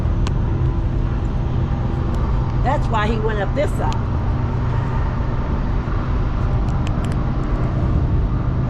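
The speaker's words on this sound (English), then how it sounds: "I hear another train. There's the other one. That's the coal train." A steady low rumble of a passing coal train fills the scene from start to finish, heard near the New River Gorge Bridge, with someone talking briefly over it partway through.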